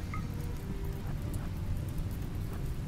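Steady rain falls in a video game, a soft even patter of drops over a low rumbling background, continuous and fairly faint with no speech.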